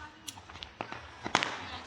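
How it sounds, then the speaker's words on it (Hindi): Fireworks go off at New Year midnight in a scatter of sharp pops and cracks, mostly distant and irregular, with a voice talking over them. "लेकिन आतिशबाजी हल्की हल्की जगह पे शुरू हो चुकी है"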